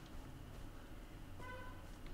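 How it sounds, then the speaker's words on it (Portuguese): A car horn honks in the Far Cry 3 video game: one faint, brief toot near the end, over a low rumbling background. "Eita, tá buzinando aqui na frente."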